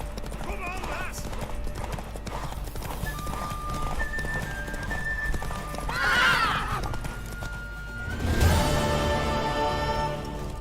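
Horse hooves clip-clopping at a run with loud neighs and whinnies, shouted voices urging it on over music and crowd noise.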